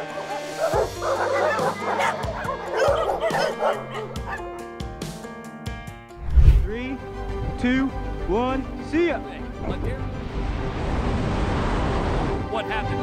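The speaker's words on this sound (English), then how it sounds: "Don't mess with a guy who has such a pack of dogs." A pack of dogs barking, yipping and whimpering together, the calls overlapping in a busy, steady clamor with one louder burst midway, heard over music and background noise.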